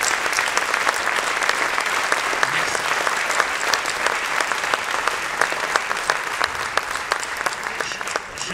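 Sustained audience applause fills a hall at an opening ceremony of a French magicians' congress, dense steady clapping throughout with a brief spoken word over it.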